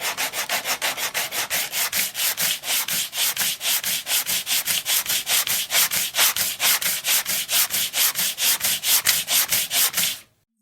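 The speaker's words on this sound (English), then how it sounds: "just keep sanding" Wood being hand-sanded during the build of a small boat, a close, loud rhythmic rasp of regular back-and-forth strokes that continues steadily for about ten seconds, then stops, with no talking.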